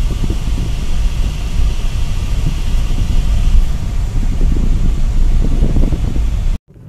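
A car drives along with its air conditioning switched on, giving a steady, loud wash of blower and road rumble with no talking; the noise cuts off abruptly near the end.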